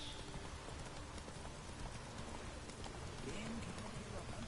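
Hooves of the horse Roach clip-clop at a steady walking rhythm in Witcher 3: The Wild Hunt on the Skellige Isles, quiet and even, with faint birdsong and ambient outdoor noise behind.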